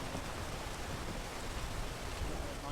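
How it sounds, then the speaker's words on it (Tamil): Steady rain falls in a video game, a soft, even hiss of drops on a surface that continues throughout without talk. "இது மழை பெய்யுது வழுக்கும்"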